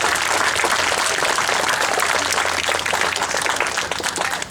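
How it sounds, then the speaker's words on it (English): A large crowd at a school ceremony gives students a sustained round of applause, a loud and even wash of many hands clapping throughout, close and steady with no break. "Let's give those students another round of applause right now."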